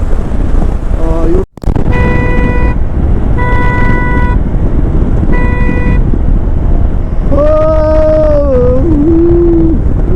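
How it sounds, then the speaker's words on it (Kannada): Several dogs howl in long, wavering tones, some distant and some closer, on a remote Ladakh route between Pangong and Hanle, with a steady hiss of background noise underneath. "ಏನೋ ನಾಯಿಗಳು ಹಂಗೆ ಬರ್ತೈತೆ."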